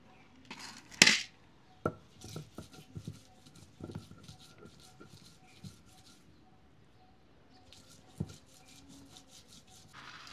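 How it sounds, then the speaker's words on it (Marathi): Ginger and garlic pieces ground with green chilli and salt in a grinder for green tangdi chicken masala, heard as irregular knocks and scraping bursts at close range, with faint rhythmic chirping in the background. "आता त्याच्यामध्ये आल्याचे आणि लसणाचे तुकडे वाटून घ्यायचे"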